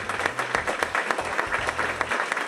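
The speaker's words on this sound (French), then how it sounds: "Levez-vous et je vous demande de les applaudir bien fort." Audience applause at a job-training reality-show session, sustained dense clapping from a room full of people with a few louder individual claps standing out.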